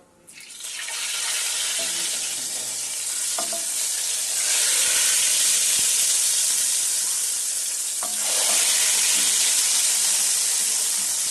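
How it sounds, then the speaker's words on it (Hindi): Hot baghaar tempering poured onto pakora kadhi sizzles loudly and steadily, with fresh surges of crackling hiss as more of the hot oil hits the curry, no voices. "अब हम इसको कड़ी पे लगाएंगे।"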